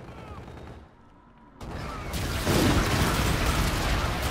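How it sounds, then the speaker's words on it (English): Friendly bombardment support strike in Call of Duty: Infinite Warfare multiplayer, a swelling barrage of booms and gunfire that grows louder and denser after a brief lull, ending in a continuous roaring wash of explosions. "Support is active. Friendly bombardment incoming."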